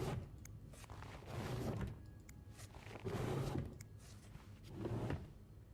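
Wooden drawers slide open and shut in the mystery game This Bed We Made: three muffled, rumbling thuds spaced a second or two apart over a quiet room tone.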